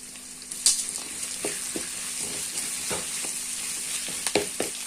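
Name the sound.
frying dried chilies, curry leaves, urad dal and chana dal in pan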